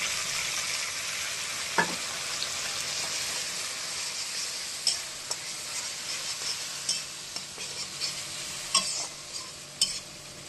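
Whole spices and mustard seeds fry in hot oil in a pan, giving a steady close sizzle broken by scattered pops and crackles, with occasional stirring scrapes and no talk.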